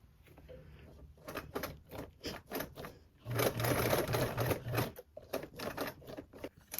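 A sewing machine stitches a fabric panel in short, rapid bursts followed by a longer steady run, close and fairly quiet, with the stop-and-start rhythm of careful sewing along a line.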